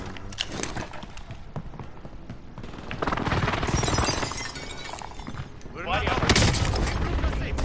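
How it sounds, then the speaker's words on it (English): Precision airstrike explosions in a video game land in loud, crackling blasts with debris shattering, the heaviest burst near the end, while players talk throughout. "Enemy precision airstrike."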